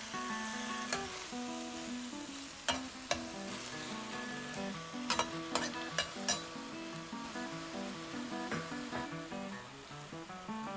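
Greens are stir-fried in a wok with salt, producing a steady sizzle broken by repeated sharp metallic clanks and scrapes of the utensil against the pan, with faint background music and no talk.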